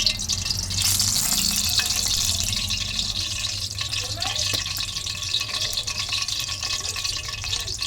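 Ingredients sautéing in a pan during home cooking, a steady bright hiss and crackle of frying oil that runs continuously from start to finish with no talk.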